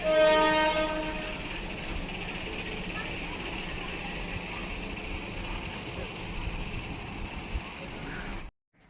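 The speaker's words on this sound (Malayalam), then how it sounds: "ട്രെയിൻ ഇപ്പോൾ ഇതാ ഒന്ന് അൻപതായപ്പോഴേക്കുമാണ് ജോളാർപേട്ട റെയിൽവേ സ്റ്റേഷനിലോട്ട് ഇപ്പോൾ ഇതാ എത്തിക്കൊണ്ടിരിക്കുന്നത്" A MEMU train pulls into Jolarpettai railway station, opening with a loud horn blast before a steady rumble of wheels and carriage noise runs on to a sudden stop.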